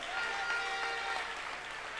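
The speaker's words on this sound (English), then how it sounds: "Give yourselves a round of applause" Steady crowd applause at an evening political rally in Tobago, a dense wash of clapping heard from amid the audience, unbroken and fairly even for the whole stretch.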